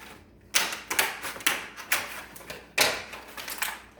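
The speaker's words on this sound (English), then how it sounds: "I'm gonna, first of all, gonna hit it with some scissors." Scissors cut apart a plastic seed tray, giving a quick series of sharp, close snips and crunches in an irregular rhythm, with a brief pause before a final burst of cuts.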